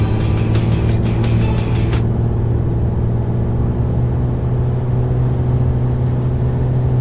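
Commander 114 piston aircraft engine in a flight simulator game, a loud steady droning rumble through a gentle climb, with a few quick clicks at the start.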